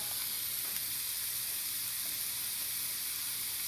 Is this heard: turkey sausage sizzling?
yes